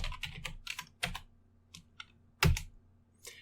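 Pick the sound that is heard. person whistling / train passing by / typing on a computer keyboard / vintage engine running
typing on a computer keyboard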